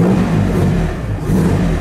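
A 1962 Jaguar E-Type low drag coupe race car engine catching and running, a loud steady low rumble with a slight rise in revs, close by and alone without voices.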